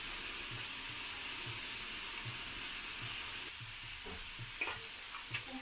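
A spatula stirs a tomato and boiled chickpea fry, a potato and chickpea dish, in a pan. It makes steady, rhythmic scraping strokes over a soft background sizzle, with a few sharper clinks near the end.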